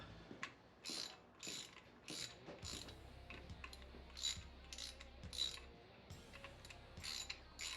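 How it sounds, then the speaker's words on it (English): A ratchet wrench tightens the clutch cover bolts on a 2007 Kawasaki VN900 Custom motorcycle, making repeated short bursts of clicking pawl ratcheting, close but quiet, with small metallic handling sounds between strokes. "Don't be out at the end of your wrench cranking down on these things."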